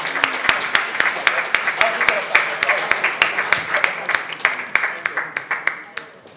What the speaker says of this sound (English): let's give a very big round of applause to the panelists and to the moderator